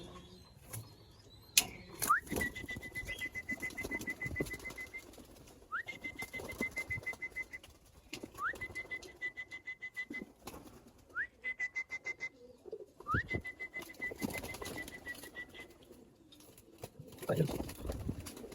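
Pigeons call in repeated bright whistling bursts with fluttering wing sounds between them, mixed with scattered noise and occasional voices in the background.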